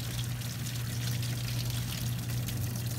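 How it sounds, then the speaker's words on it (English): Dirty rinse water pours steadily out of a brass tumbler in one continuous, fairly loud gush that neither stops nor changes through the clip. "I dump all the water."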